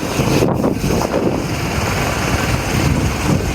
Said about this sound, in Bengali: বড় হাওয়া